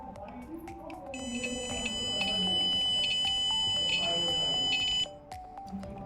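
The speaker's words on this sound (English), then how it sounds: "When gas is detected by the gas sensor, then buzzer and LED will glow." A piercing gas sensor alarm buzzer on an Arduino smart home build sounds continuously for several seconds, then stops, with voices and background noise around it.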